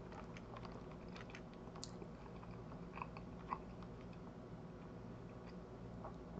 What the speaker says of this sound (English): So if you hear the sound of me chewing